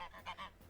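Geese honk in the zoo-management game Let's Build a Zoo, two or three short nasal calls in quick succession, fairly faint against a soft background, with no talking.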